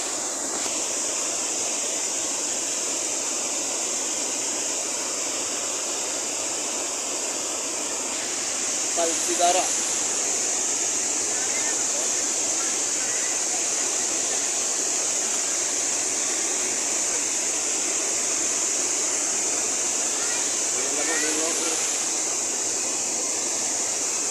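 A steady roar of a monsoon waterfall fills the scene, broad and constant, with a couple of brief faint voices surfacing midway.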